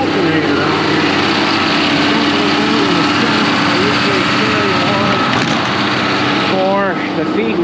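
A tractor runs with its PTO engaged, a loud, steady engine drone with a busy mechanical whir close by, and someone speaks briefly near the end.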